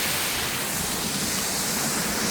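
A waterfall beside a cliffside trail gives a steady, loud broadband roar of rushing water, constant and close throughout with no voices over it.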